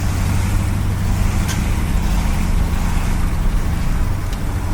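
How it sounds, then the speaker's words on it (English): A 1964 Mercury Park Lane Breezeway engine idles steadily with a bad exhaust leak at the front, giving a constant, loud, low rumble with slight chuffing throughout and no talking. "That exhaust leak is awful in front of the car."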